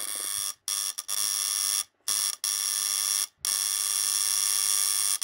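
An electrical contactor coil driven at 50 Hz, with its contacts bypassed, gives a loud, steady high-pitched buzz in long bursts that stop abruptly several times, with brief silent gaps between them.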